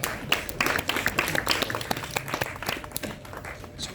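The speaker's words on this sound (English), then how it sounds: "give you a round of applause" Lecture hall audience applause: a small group claps briefly, with distinct individual claps audible in an uneven, moderately close rhythm over a few seconds.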